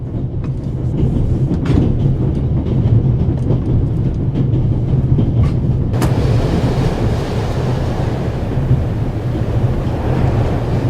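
A train rolls steadily along the rails in The Raven Remastered, a loud, continuous low rumble with faint rhythmic clatter, heard close as if from aboard, with a brief sharp knock partway through.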